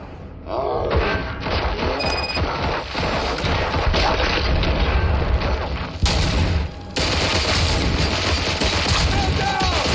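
Gunfire erupts in RoboCop: Rogue City, a dense fusillade of rapid shots and heavy thuds mixed with mechanical clanks, loud and sustained over ten seconds, with a brief dropout midway.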